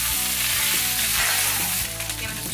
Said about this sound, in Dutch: Maar ik heb dus een klontje margarine in de pan. Kijken of we hiermee goede pannenkoekjes kunnen bakken.